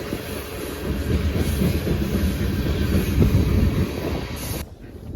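Loud, continuous rumble and rattle of a freight train passing nearby, cars clattering steadily before the sound cuts off abruptly near the end.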